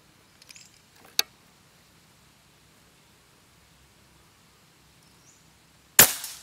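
A faint click early on, then one loud, crisp air rifle shot near the end with a brief trailing ring, otherwise quiet.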